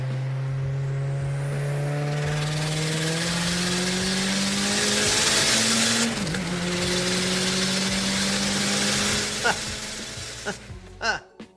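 Turbocharged dual overhead cam 2.3-liter four-cylinder engine in a front-wheel-drive wagon, revving steadily and climbing in pitch for several seconds with a brief dip, then winding down, close and fairly loud with a few clunks at the end.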